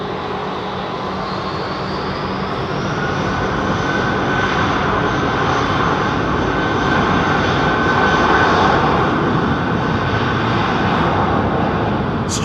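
A Boeing 737 MAX 9 jet airliner at London Heathrow Airport roars with a steady, loud engine rumble that builds slightly and holds throughout, with no talk over it.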